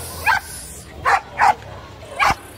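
Dogs at an outdoor weekly dog market give four short, sharp yips and whimpering barks, spaced irregularly and close by, over faint background murmur.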